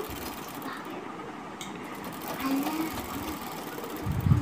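A sewing machine runs a straight line of stitching along a blouse hook belt, a continuous close mechanical whirr with a rapid, even needle rhythm, steady throughout at moderate volume.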